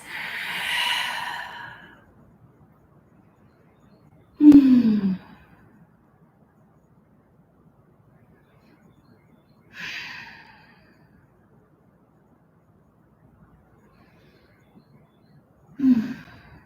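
Slow, relaxed yoga breathing in a vinyasa class, a few long soft exhales and sighs spaced several seconds apart, close and clear over near silence.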